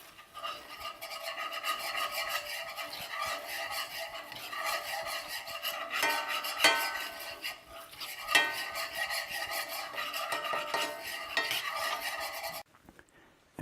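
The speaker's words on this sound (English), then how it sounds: "once your mustard is in there, you just want to stir that around to incorporate it" A utensil scrapes and stirs a Dijon mustard pan sauce in a cast iron skillet, making rhythmic rasping strokes with brief pauses before stopping abruptly.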